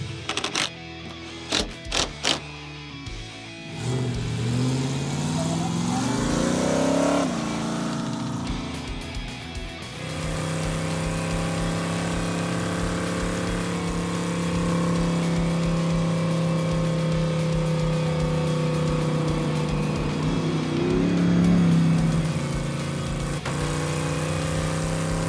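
A Hemi-powered AMC Gremlin starts out on the road toward Tucson with a few clicks and knocks, then its engine revs up and shifts through gears. A loud, droning exhaust follows at cruising speed, close and continuous.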